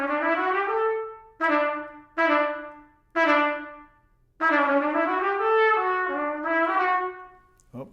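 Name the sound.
trumpet notes tongued, spitting the note out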